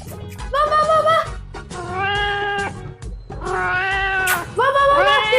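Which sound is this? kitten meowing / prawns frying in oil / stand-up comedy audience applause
kitten meowing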